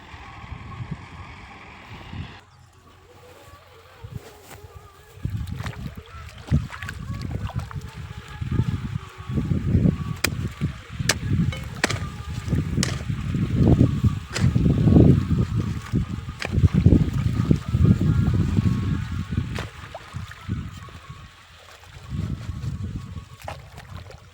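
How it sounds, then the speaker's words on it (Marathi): Irrigation water running into a farm field, a continuous rushing and gurgling flow heard close by that stays moderately loud for the whole stretch. "शेतीला पाणी द्यायचं चालू केले की असे"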